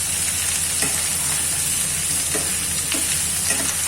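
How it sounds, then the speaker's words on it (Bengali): Pieces of ash gourd being turned in a pan of hot oil with whole cumin and nigella seeds give a steady loud sizzle and fry throughout, with faint scrapes of the spatula, close and with no talk. "এবার এটা একটু নাড়াচাড়া করে নেব।"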